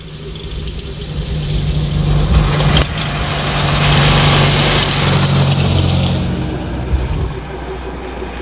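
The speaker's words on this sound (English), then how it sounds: "The engine has been completely rebuilt." A rebuilt 1938 Škoda car engine runs steadily with a low, rumbling idle and a faint mechanical rattle, fairly close, holding a constant drone with a short sharp knock partway through.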